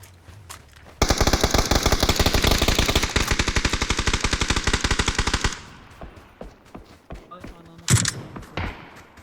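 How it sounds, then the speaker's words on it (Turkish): Automatic gunfire in a video game rattles out as one rapid, loud burst lasting several seconds, followed by scattered single shots and thuds, with a voice briefly heard. "Oha beni kim vurdu?"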